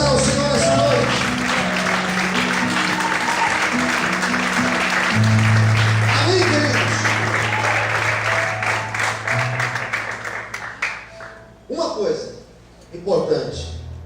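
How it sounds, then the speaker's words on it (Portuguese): Church congregation applauding during a Portuguese-language service, dense clapping mixed with sustained music and voices, fading toward the end into sparser sounds. "Você pode aplaudir e exaltar ao Senhor essa noite"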